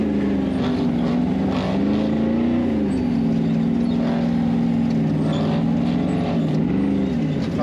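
Off-road rock racing vehicles rumble at the start of a race, a loud continuous engine drone with a wavering pitch that rises and dips as throttles change, with no voices over it.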